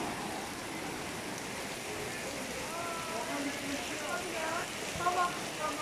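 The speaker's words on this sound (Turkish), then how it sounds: "Yağmura bakın nasıl yağıyor İzmir'de." Steady rain pours down on a city street in İzmir, a dense, even hiss that fills the scene from start to finish, with faint tonal sounds rising briefly toward the end.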